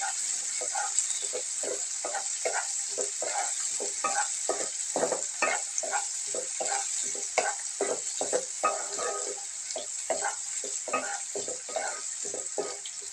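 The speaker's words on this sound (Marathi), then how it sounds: "कांदा चांगला भाजून घ्यायचा." Onion frying in a pan with mustard seeds and cumin, a steady bright sizzle throughout with a continuous rhythm of spatula scrapes and stirs, close and fairly loud.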